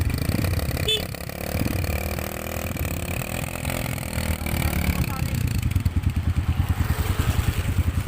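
A Honda CRF150 dirt bike on a trail site in Manggahan, Rizal revs hard nearby, then settles into a pulsing, rapid engine beat, with people talking over it throughout.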